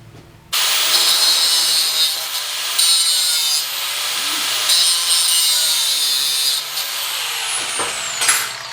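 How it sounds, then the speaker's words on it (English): Angle grinder cutting through steel bolts on blacksmith-made armor, a loud continuous high-pitched grinding screech that starts abruptly and holds steady for several seconds with slight dips as pressure shifts. "Now, I'm going to cut these bolts off and then put a little spot of weld on each of them."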